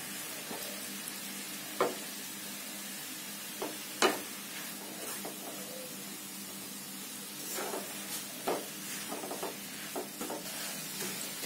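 Grated coconut mixed with a cup of milk is stirred in a pan over medium-low flame, giving a soft steady sizzle with occasional quiet scrapes and clinks of the spoon against the pan.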